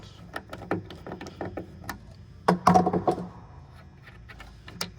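Small screw loosened on a pinball flipper button, heard as a series of close, light metallic clicks and ticks, with a short rattling burst of handling in the middle before the clicks continue sparsely.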